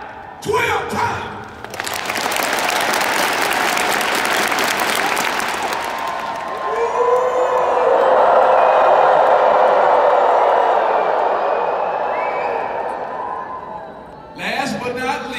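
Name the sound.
audience clapping 12 times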